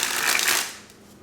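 A Split Spades Lions deck of playing cards is dribbled from hand to hand, a quick close fluttering rush of cards lasting under a second and then fading out.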